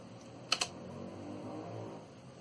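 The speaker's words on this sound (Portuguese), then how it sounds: "Eu vou bater aqui no teclado, aqui no Enter, e você vai ver o significado." Two quick, sharp clicks from a computer keyboard, like keys being struck and Enter pressed, close to the microphone over a soft, steady room hiss.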